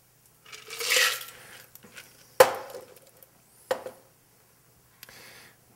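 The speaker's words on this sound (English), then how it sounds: "Now we cut another slice of lime." A knife slices through a lime on a cutting board while a margarita is being made, giving a few sharp, separate chops and taps with quiet gaps between them.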